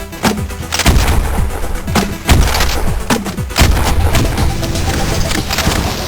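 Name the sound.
China Lake grenade launcher firing in the video game Cultic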